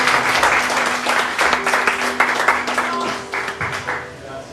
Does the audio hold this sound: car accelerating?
no